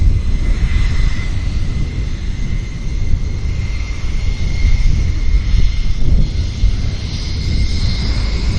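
Airplane engine roaring continuously at Vancouver YVR airport, a loud steady rumble with a high whine, heard close by with wind buffeting the microphone.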